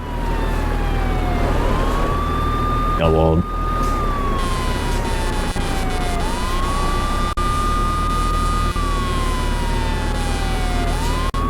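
Police sirens wailing in a Real Operations V13 driving game chase scene, rising and falling in long sweeps over engine rumble and continuing throughout, with a brief voice heard near the start.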